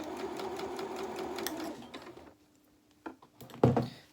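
A sewing machine stitches fabric for a reversible winter cape for a small rabbit doll, running in a fast rapid rattle for about two seconds, then stopping, followed by a few close clicks and handling sounds.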